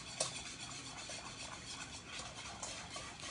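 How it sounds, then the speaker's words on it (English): A whisk stirs sauce in a pot with a soft, continuous scraping and swishing, faint and close, with occasional light clinks of metal against the pot. "You gotta keep on whisking it, because you don't want it to get burned and get stuck to the bottom."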